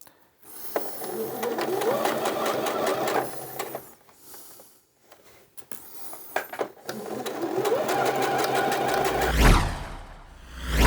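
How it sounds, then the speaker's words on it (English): A sewing machine runs a line of stitching along the pinned top edge of a skirt waistband, loud and close in two long steady bursts separated by a short pause, then stops. "we need to do a line of stitching along this top part of the waistband"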